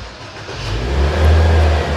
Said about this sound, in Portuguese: Vamos lá, partida dada no carro.